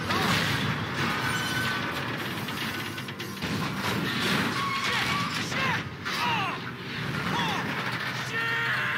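In Grand Theft Auto V, two trains collide, giving loud crashing and grinding metal with heavy thuds and screeching squeals, continuous and busy throughout alongside in-game voices.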